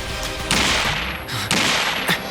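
British soldiers fire rifles at an escaping prisoner diving into icy water at dawn, in an animated historical drama; three sharp, loud bursts of gunfire ring out over a constant noisy background with no talking.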